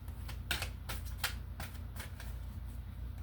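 Tarot cards handled and drawn from a deck, giving soft papery shuffles and flicks in uneven bursts, quiet and close with no talking.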